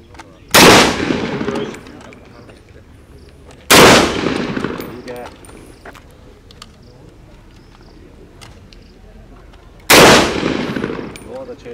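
A submachine gun fired on a self-defense shooting range, heard as three loud separate bursts several seconds apart, each ringing out and decaying into the open air.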